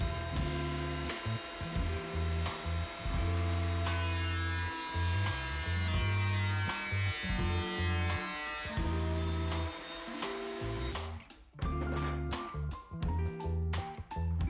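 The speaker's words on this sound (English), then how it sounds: "run that side through the planer" A thickness planer hums loudly as a wood board feeds through for coaster making, a steady motor whine that cuts off near the end into intermittent bursts and knocks.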